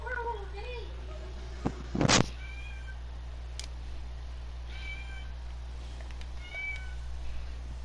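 A cat in the Sims 4 meows for food, several short repeated meows at moderate volume over steady game background sound, with a brief louder clatter partway through.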